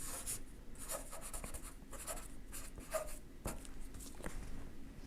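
Pen writing a label on a blank paper seed envelope, with short, close scratchy strokes in bursts and brief pauses, no voices.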